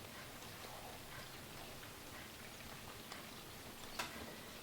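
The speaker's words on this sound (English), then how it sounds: "I'm listening to the rain outside." Steady rain falls outside a quiet room with a wood stove, a soft even patter of drops with a few faint ticks, low and constant with no voices.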